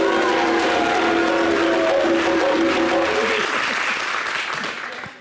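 Studio audience on a French summer variety TV show breaks into loud, dense applause with a few cheers, holding strong for about four seconds before tapering off near the end.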